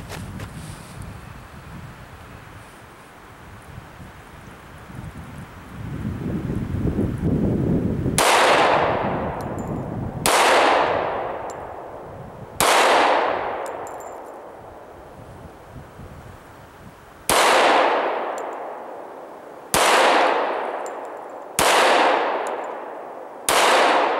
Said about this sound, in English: gonna shoot our target right there. We're gonna shoot the top right one.